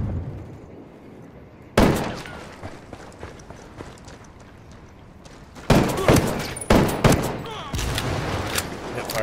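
Ghost Recon Wildlands hip-fire gunfire, loud and close: one sharp shot, a stretch of muffled movement, then a rapid cluster of heavy shots with ringing tails.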